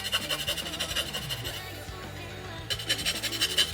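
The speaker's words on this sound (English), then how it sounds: "yeah, sure, let's sandpaper it." Sandpaper rubs rhythmically on a small plastic part of an HG Nightingale Gunpla model kit, a close, dry, repeated rasping that pauses briefly midway, with faint music underneath.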